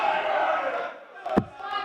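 A darts crowd roars and chants as Luke Littler, showboating after finishing on the bull at the Super Series, conducts them; a loud sustained swell of voices fades, then a brief sharp shout and clap burst rises again.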